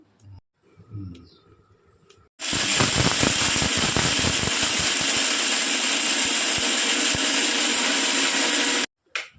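A mixer grinder roars at full power for several seconds, coarsely crushing garlic cloves, with blade rattles and hard knocking under a loud steady whine, starting and stopping abruptly after a brief quiet moment.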